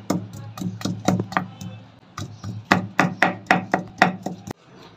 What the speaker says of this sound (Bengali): প্রথমত আদাটা কুচি কুচি করে আমরা এটা পেস্ট করে নিব।